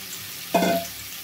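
Cauliflower pieces fry in a pan, with a low background sizzle broken by one short, sharp stirring scrape of a spatula against the pan.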